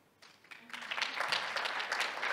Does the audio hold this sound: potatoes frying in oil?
no